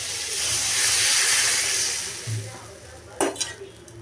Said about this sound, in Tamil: அப்புறம் புளி ஊற்றிக்கலாம்.